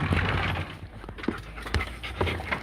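Dogs pant steadily in quick, rhythmic breaths close by, with a few soft knocks and shuffles between the breaths and no one speaking.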